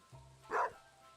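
A single short dog bark from a bark trap in the Stardew Valley randomizer video game, brief and fairly quiet, heard on its own.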